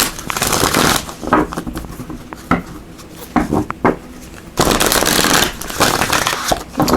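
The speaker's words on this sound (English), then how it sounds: "we're going to pull from this Earth Magic Oracle cards" Earth Magic oracle cards being shuffled and drawn, a run of crisp riffling bursts and sharp card snaps with brief pauses, close and fairly loud, with no talking.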